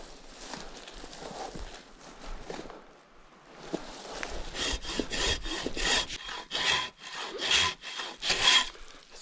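Hand saw cutting through a hurricane-felled tree across a forest trail, rasping strokes near and loud, speeding into a quick steady back-and-forth rhythm in the second half.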